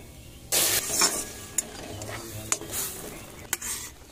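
Milk pours into fried grated carrots in a pan for gajar halwa, giving a burst of splashing sizzle, then softer bubbling with a few sharp utensil clinks.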